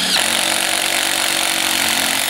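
A DeWALT drill-powered cutter slicing through PVC pipe: a loud, continuous motor whine with a grinding, rasping cut that starts abruptly and holds steady, close by with no talking.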